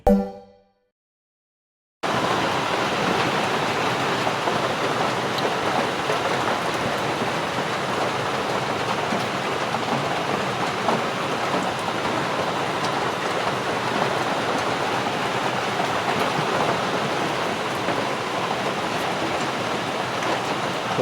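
Steady rain shower falling outdoors, a dense broadband hiss that starts abruptly after a short silence and continues evenly and loudly throughout, with no voices.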